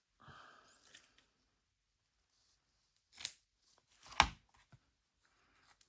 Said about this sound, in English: Let's cut a little piece.